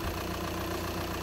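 A Volkswagen Passat 2.0 TDI diesel engine that is overheating at high speed runs steadily at idle, giving a continuous close mechanical drone with no voices over it.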